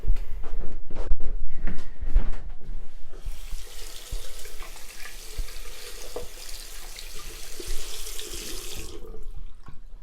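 Tap water runs steadily into a bathroom sink in an ensuite as a sponge duster is rinsed, a continuous hiss and splash following a few clunks and knocks at the start.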